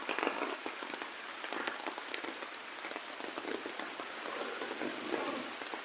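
Pouring rain falls at Boston Bay Beach, a dense steady hiss of drops striking surfaces, continuous and even with no voices over it.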